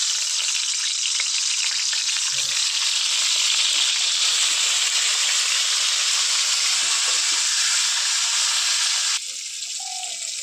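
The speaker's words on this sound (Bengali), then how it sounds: "এবারে আলুটা ভেজে নেব" Potatoes fry in hot oil while biryani is being made, giving a loud, steady, dense sizzle throughout that drops to a softer hiss near the end.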